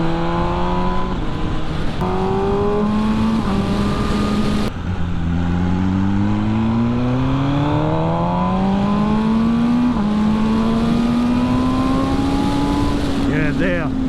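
A 2020 MV Agusta Brutale 1000 RR engine revs loud and close, pitch climbing through several gear changes with brief dips, someone talking over the rising engine note.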